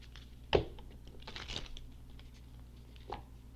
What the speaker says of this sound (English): I don't like that shuffle.